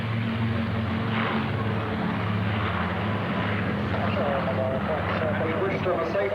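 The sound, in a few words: Westland Lysander aircraft passing at an airshow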